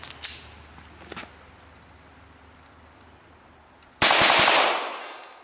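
A .22 LR rifle firing in a quick series outdoors: two sharp cracks early, a softer shot shortly after, then quiet with a steady insect-like hiss and a loud burst of noise near the end.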